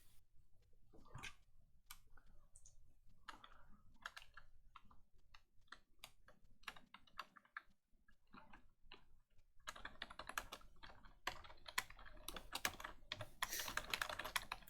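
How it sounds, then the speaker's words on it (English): Someone types on a computer keyboard nearby: irregular bursts of light clicking keystrokes that speed into a dense, faster flurry toward the end. "Sorry, I'm just typing."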